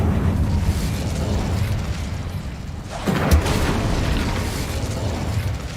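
In the Hogwarts Legacy video game, a fire spell bursts with a dense, roaring rumble that runs continuously, with a sharper whoosh flaring up about halfway through.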